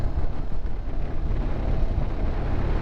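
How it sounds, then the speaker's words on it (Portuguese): Strong wind buffets the microphone at a kitesurfing beach, a constant low roaring rush with gusty pulses, loud and close, with nobody speaking. "Hoje por acaso está bastante vento"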